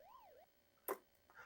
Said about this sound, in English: You gotta love the siren that's constantly going off in Pac-Man.